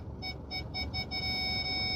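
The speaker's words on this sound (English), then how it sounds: "Sorry about that beeping in the background." A car's reversing alert beeps repeatedly in a steady electronic pattern while backing into a parking spot, fairly quiet against low road rumble.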